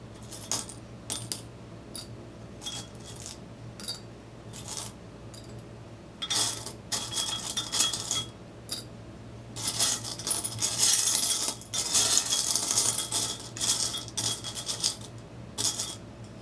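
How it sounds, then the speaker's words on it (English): Small metal charms dropped and tumbling into a keep bowl, bursts of bright jingling clinks and rattles that grow busier and louder in the second half, close and alone. "I'm going to take all these charms and just put them in"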